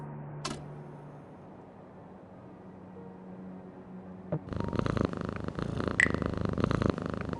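Cat purring in the game Frequency Missing, a cat sitting by an open window of a law firm building in the evening: a soft, steady low rumble over quiet ambience, then a louder broadband wash of background sound joins in.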